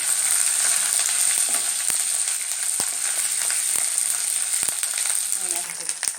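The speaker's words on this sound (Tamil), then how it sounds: "சும்மா ஒரு கொத்து கருவேப்பிலையும் சேர்த்து விட்டுருங்க" A sprig of curry leaves sizzles in hot oil while tempering for a tomato sambar (thakkali kuzhambu). A dense, steady crackling hiss stays loud throughout, with scattered pops and sputters.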